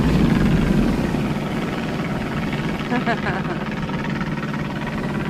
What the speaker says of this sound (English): It's an old plane.